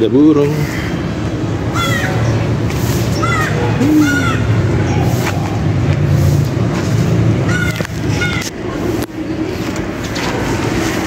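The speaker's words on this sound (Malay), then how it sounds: "Ada burung" Crow cawing outdoors among flowering ginger plants, several rising calls scattered through the stretch over a steady low rumble of traffic or engine noise, with a person talking throughout.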